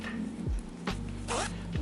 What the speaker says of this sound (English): it has the zippers, the zipper pockets